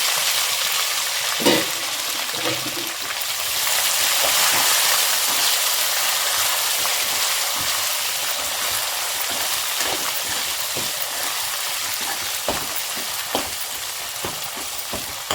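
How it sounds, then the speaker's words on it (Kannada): Chopped capsicum fries in hot oil with cumin, dried red chillies and curry leaves, a continuous loud sizzle broken by occasional sharp clinks and stirring scrapes, with no voices. "ಈಗ ಹೆಚ್ಚಿಟ್ಕೊಂಡಿರೋ ಕ್ಯಾಪ್ಸಿಕಮ್ ಸೇರಿಸ್ಕೊಳ್ಳೋಣ"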